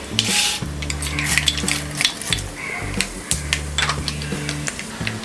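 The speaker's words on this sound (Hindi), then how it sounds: "तेल और घी गर्म हो गया है। अब हम इसमें डालेंगे ये राई," Mustard seeds crackling and sizzling in hot oil and ghee, alongside urad dal, while making spiced chickpea sundal; a steady fry with sharp popping bursts, close and fairly loud, with no talking.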